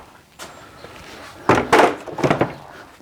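A door panel is lifted off a Vinten Quattro pedestal shipping case, giving a light knock followed by a cluster of heavier, close thuds and rattling clunks.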